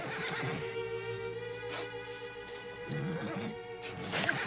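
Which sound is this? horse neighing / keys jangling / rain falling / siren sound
horse neighing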